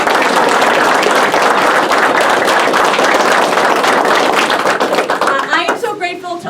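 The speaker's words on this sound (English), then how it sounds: "So let's give them a round of applause for all the work." A crowd at a Republican campaign rally applauds campaign staffers and volunteers, loud dense clapping that holds steady and then thins into scattered claps near the end.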